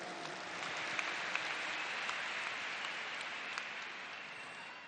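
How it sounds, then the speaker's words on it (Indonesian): Crowd applause at a large political rally in a stadium, steady dense clapping from a big audience heard at a distance, sustained evenly for the whole stretch with no talk over it. "Tepuk tangan untuk semua yang memilih hadir di sini."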